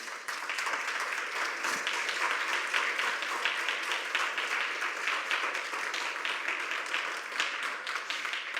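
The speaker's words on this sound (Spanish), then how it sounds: "Dale un aplauso al Señor." A church congregation gives a sustained burst of clapping, loud and dense from start to end, without a pause.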